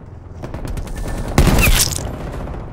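An automated sentry turret in Call of Duty Black Ops Cold War opens up with a rapid rattle of shots, building into a loud, dense burst near the middle before trailing off into continued firing.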